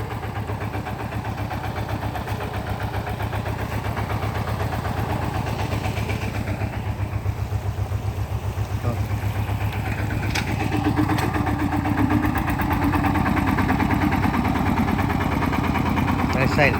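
A diesel tractor engine idling nearby with a steady low chugging throb, loud and constant, with a voice talking over it.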